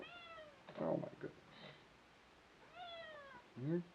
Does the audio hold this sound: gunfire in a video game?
no